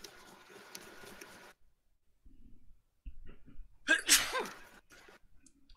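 A single sharp sneeze bursts out close and loud partway through, after quiet background noise and a few soft sounds.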